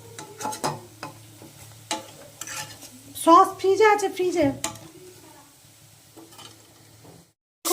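Gram flour (besan) fritters sizzle steadily in hot oil in a home kitchen, with a few utensil clinks and louder crackling bursts midway, while a person talks over the frying.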